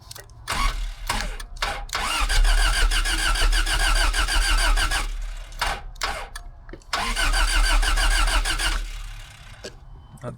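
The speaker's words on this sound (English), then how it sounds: "I'm gonna give it a little test and see if it fires up." A 1984 Toyota AE86 Corolla engine cranks in two long bursts of rhythmic starter churning, loud and close, broken by short pauses, without firing up.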